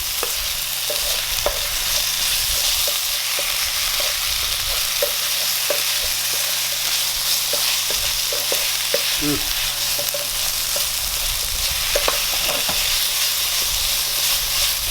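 A spoon scrapes and stirs through a bubbling pot of okra soup, with a constant frying sizzle and repeated clinks against the sides.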